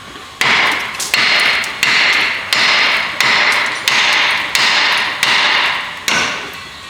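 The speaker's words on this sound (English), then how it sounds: "grab hammer," A hammer striking the tie rod on a GMT800 truck's front end, eight sharp metallic blows at a steady rhythm roughly every 0.7 seconds, each ringing briefly before the next, loud and close.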